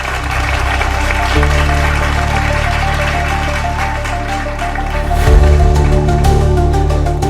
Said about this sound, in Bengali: জোরদার হাততালি হয়ে যাক